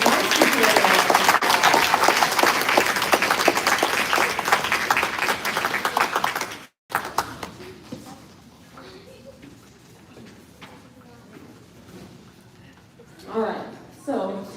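An audience at a youth string camp concert claps after a dance performance, steady loud applause for about six seconds before it cuts off, followed by quieter room noise and faint voices.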